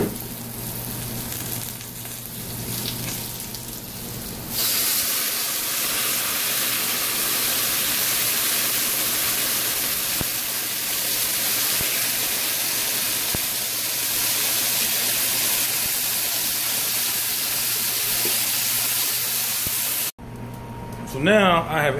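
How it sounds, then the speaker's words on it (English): Red wine poured into a hot gravy pan bursts into a loud, steady hiss and sizzle that holds for about fifteen seconds, following a quieter stretch and ending abruptly. "we're gonna add some red wine, and this will help give us some flavor, build some flavor in there, and also deglaze the pan"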